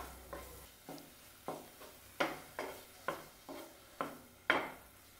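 Chhana is stirred in a pan over a low gas flame, producing about ten rhythmic scraping knocks at a steady pace, close and clear, over a faint background sizzle.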